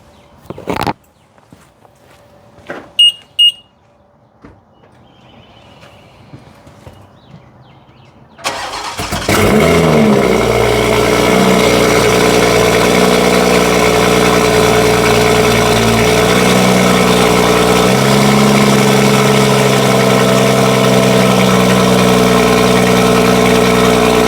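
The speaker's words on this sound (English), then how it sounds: "I'm gonna show you guys a quick cold start." A BMW M340i cold starts after a few quiet clicks and door sounds: the engine cranks, flares loudly, then settles into a steady, loud idle that carries on alone to the end.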